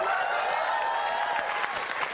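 An audience claps and cheers steadily on a live Indonesian comedy game show, a dense wash of applause held at an even level from start to finish.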